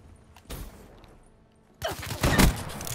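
Annihilator gunfire in Call of Duty: Black Ops III: a short loud burst, a pause, then a longer stretch of dense, rapid shots with heavy impacts close up.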